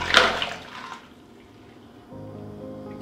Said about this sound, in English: this spinning brush is going to kick water all over the place